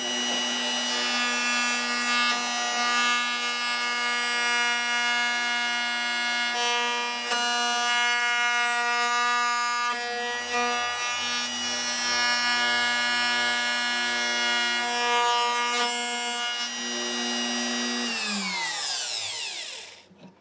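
Bosch Colt router cutting a bridge slot in a 1977 Michael Gurian guitar, a steady loud high-pitched whine held for about eighteen seconds before spinning down at the end, with no talking.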